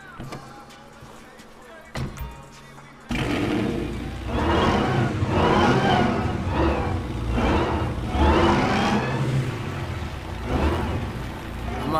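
A customized car in GTA V with the VStancer mod pulls out, its engine droning loud and steady with rising and falling revs after a quieter opening.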